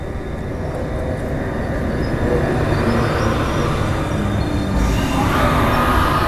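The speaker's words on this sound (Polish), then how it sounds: "Wjeżdża pociąg, tutaj stoi SM42 z wagonami towarowymi." A train rolls into a station in Poland past a parked SM42 locomotive with freight wagons, a loud, continuous low rumble of wheels and engine, close by and steady, rising slightly near the end.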